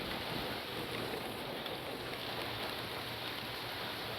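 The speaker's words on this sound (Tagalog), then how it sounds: "Ang lakas ng ulan ngayon" Steady, muffled hiss of heavy rain drumming on a car roof, heard from inside during an approaching typhoon, constant and fairly quiet with no talking.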